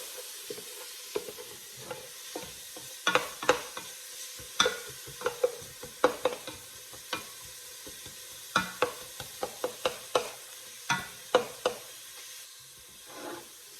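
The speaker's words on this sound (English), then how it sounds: "And then you can see sizzling around." Onion, garlic and ginger sizzle steadily in a hot pan while a utensil stirs and scrapes, producing repeated sharp clinks and scrapes over the constant frying hiss.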